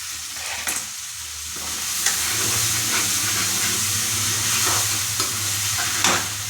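Onions and cumin sizzle steadily in hot oil for a tadka with paneer sabzi, a continuous frying hiss with occasional sharp spatters and faint stirring clicks, close and without talk.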